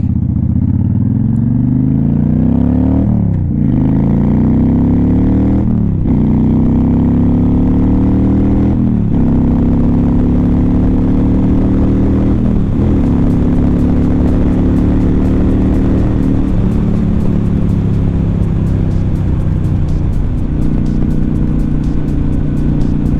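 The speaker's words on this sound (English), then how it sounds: "I will send you off with getting some sound out of this bike." A motorcycle engine runs loud and close, climbing steadily through a long rev with several brief dips as it shifts up, then settling into a sustained drone, with no talking over it.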